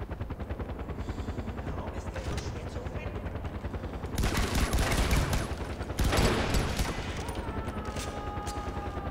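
Machine gun fire in the Far Cry 4 video game, rapid continuous bursts under the steady chop of a helicopter hovering overhead, growing louder in two heavier volleys midway through.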